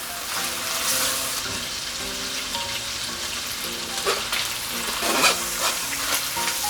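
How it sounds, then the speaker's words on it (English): Korean seaweed soup with meat bubbling and sizzling in a pot, a steady close bubbling hiss with soft clinks and stirring noises, no talking. "Look at that boiling up."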